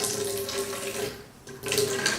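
Water spills steadily from a vertical diode laser hair removal machine, a continuous gurgling flow that dips briefly and then surges again.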